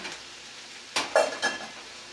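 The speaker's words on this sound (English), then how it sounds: "Oh, we got some sizzle." A fish fillet hits a hot frying pan, setting off short bursts of sizzling with a few clinks of a utensil against the pan, close and otherwise quiet.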